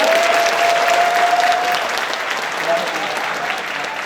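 Audience applause at a tech keynote session, a dense crowd clapping loudly at first and easing slightly, with a faint tone running through the first half.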